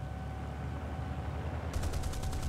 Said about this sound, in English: Beautiful strafe.